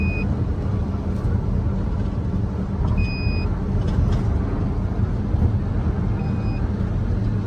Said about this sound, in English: there goes another car passing